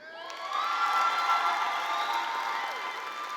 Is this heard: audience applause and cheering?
yes